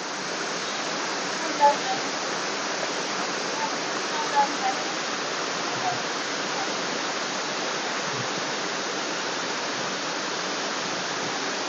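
Tat Mok waterfall in Phetchabun pours down a steep cliff, producing a constant broad roar of rushing water that stays even and loud throughout, with a few faint knocks.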